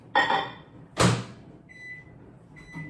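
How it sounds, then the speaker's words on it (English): A kitchen microwave used to melt chocolate for no-bake keto cookies gives two solid door thumps, then a sustained electronic beep and a shorter beep near the end, close and clear with no talking. "you can just cheat, as I was about to do, got out the blocks too soon, and do it in the microwave"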